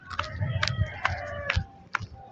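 Several chickens on a farm field cluck and call in short bursts, roughly one every half second, at close range with low rustling and footsteps underneath.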